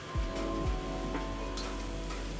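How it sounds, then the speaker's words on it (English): Steady rain falls outdoors as a continuous, fairly loud hiss with scattered drops, a few sharper taps standing out, and no one talking over it. "And there's the rain."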